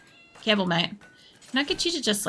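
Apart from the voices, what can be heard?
cat meowing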